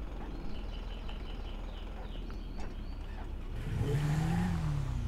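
A motorbike in GTA 5 starting up and pulling away, its engine rising into a loud, close revving whine after a few seconds of quieter ambient traffic rumble. No one speaks.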